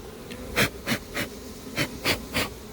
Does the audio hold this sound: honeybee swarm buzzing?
yes